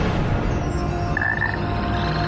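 A large mass of frogs croaks in a dense, continuous chorus at a Fear Factor stunt, loud and steady throughout with no talking over it.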